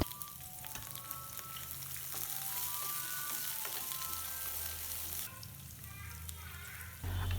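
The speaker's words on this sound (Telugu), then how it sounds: "కట్ చేసిన ఉల్లిపాయ, పచ్చిమిరపకాయ ముక్కలు వేసి వేయించాలి." Chopped onion and green chillies fry in hot oil with cumin and mustard seeds in a pan for aloo fried rice. A soft, steady sizzle crackles throughout, with a louder burst of frying near the end.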